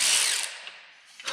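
A DeWalt power tool working on a bolt, a short loud buzzing whir that fades, followed by a brief ratcheting burst at close range.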